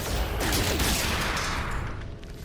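Rapid gunfire in No Man's Sky aimed at an unstable canister, a loud dense burst of shots that runs continuously and then fades slightly at the end.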